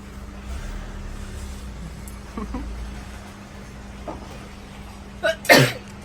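A single sharp sneeze bursts out near the end of a quiet indoor stretch, loud and close over a steady low hum.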